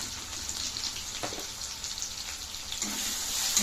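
Turmeric and red chili powder being sautéed in a pan for chana chaat, a faint, steady sizzle with a couple of soft scraping stirs.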